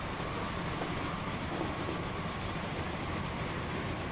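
Steam locomotives hauling trains in the rail-transport game Transport Fever, a steady rumbling roll of wheels and carriages that fills the scene at constant level, with no voices over it.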